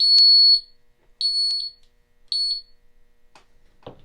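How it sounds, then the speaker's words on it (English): A handheld metal detector gives three short, loud high-pitched beeps at an even pace, each stopping abruptly, followed by faint scattered clicks and a low rustle. "This one gives a beep and then it quits"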